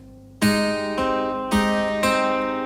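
A guitar plucked in a quick fingerpicked pattern, four bright ringing strums of notes in steady rhythm, close and clear with no talking.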